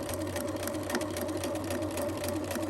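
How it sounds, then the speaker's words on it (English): A sewing machine stitches forward through three layers of fabric on a mini zipper pouch, humming steadily and evenly at close range throughout, with no pauses and no voices. "I'm going to continue to sew forward, making sure to continuously get all 3 pieces of fabric"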